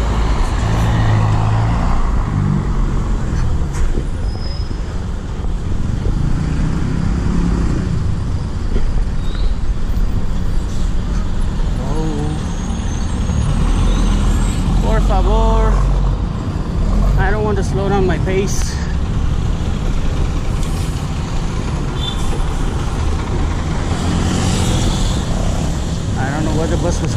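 A bus passing through busy Mexico City street traffic, heard from a bicycle amid steady loud road noise and engine rumble, with people talking nearby.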